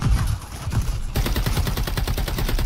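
Rapid automatic gunfire from a Call of Duty MW3 hardcore multiplayer match, a sharp burst of single shots giving way to a sustained fast stream of loud, close cracks.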